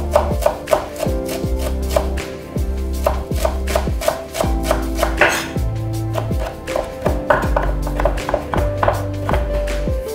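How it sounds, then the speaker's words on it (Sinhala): A kitchen knife finely chopping a gathered pile of parsley on a board for tabbouleh salad, with quick bursts of sharp taps separated by short pauses, close and crisp, with no talk. "මෙහෙම එක්කහු කරලා පුළුවන් තරම් හීනියට chop කරගන්න"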